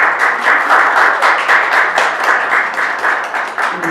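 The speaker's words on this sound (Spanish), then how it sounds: "aplauso" A Spanish-speaking audience claps for an introduced author, steady, dense applause filling the room at an even loudness throughout.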